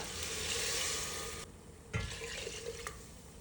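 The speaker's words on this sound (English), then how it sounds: "Add water." Water pours into a pot of washed rice and moong dal with turmeric for lauki khichdi, a brief close splashing rush that stops abruptly, followed by a few faint knocks.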